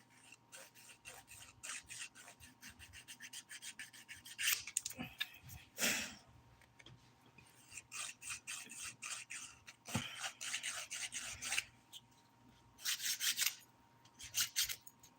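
Hand filing of fingernails with a nail file during a dip powder manicure, giving soft scraping strokes in irregular bursts, close and fairly quiet, with no talking.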